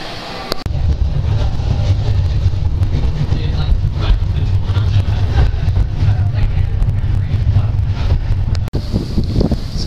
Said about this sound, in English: This is a Wellington cable car that goes up the mountain.